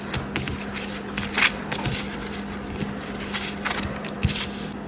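Game cards get a quick shuffle, producing soft, close riffling and scraping sounds with a few light taps, fairly quiet and without any speech.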